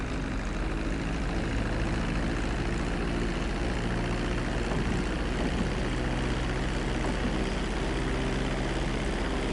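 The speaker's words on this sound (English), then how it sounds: "reducing the plane's altitude gradually so you're just above the runway as you approach" An airplane engine drones steadily as the plane comes in to land on a runway in GTA, a continuous loud hum with no change in rhythm and no voices.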